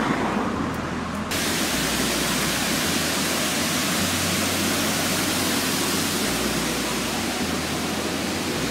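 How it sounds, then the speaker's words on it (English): A waterfall near caves in the Pyrenees gives a steady, loud rushing roar that fills the whole stretch without a break and stays close and constant throughout. "Oh, look at the waterfall."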